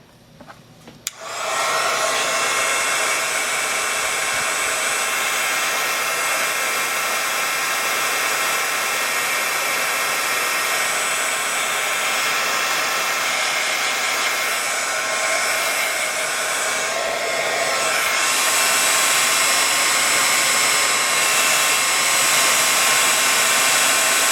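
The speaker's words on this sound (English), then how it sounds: "I'm going to blast it with some heat again to dry it up faster." A craft heat tool blowing hot air to dry a Halloween ghost project, starting after a brief click and then running as a loud, continuous close whoosh with a slight pitch shift near the end.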